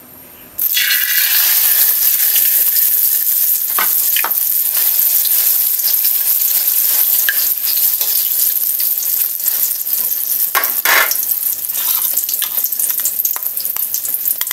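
Eggplant slices dropped into a hot pan of already-cooked ground pork sizzle loudly and steadily, with a few brief clinks and scrapes of a utensil over the continuous frying hiss.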